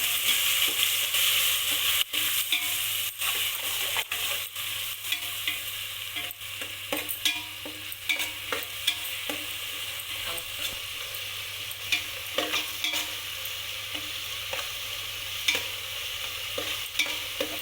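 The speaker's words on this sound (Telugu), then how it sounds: "పచ్చివాసన పోయేంత వరకు మనం ఫ్రై చేసుకోవాలి" Onions fry with ginger-garlic paste in a pan, sizzling steadily and close up, broken by frequent scrapes and clicks from a stirring spoon. No one speaks.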